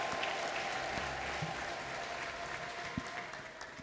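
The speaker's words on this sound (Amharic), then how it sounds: "ይሄ ሁሉ እስኪ ደግማችሁ ለጌታ ማጨብጨብ ከቻላችሁ" A church congregation in Addis Ababa clapping for the Lord, a steady wash of distant applause that stays fairly faint and tapers slightly toward the end.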